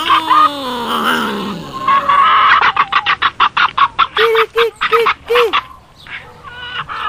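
A rooster clucks and then crows in a run of sharp, rhythmic calls, close and loud, with no talking.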